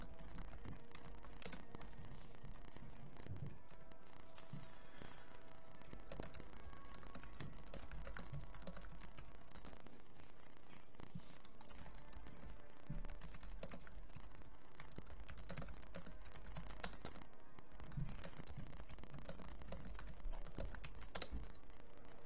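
Rapid, continuous computer keyboard typing runs close and fairly quiet while someone plays the online game Star Wars: The Old Republic, with uneven clusters of keystrokes over a soft game-sound background.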